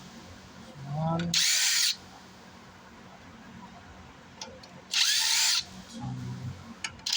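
A power drill drives screws into a Sundown ZV5 15-inch subwoofer during repair of a burnt voice coil. Two short, loud whirring bursts are heard several seconds apart, with someone talking between them.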